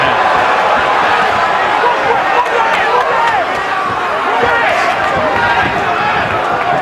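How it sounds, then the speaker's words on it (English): A boxing crowd at the Julio César González vs Julian Letterlough fight cheers in a continuous, dense roar that swells and dips, with a commentator talking over it. "There's a lot of cheering going on."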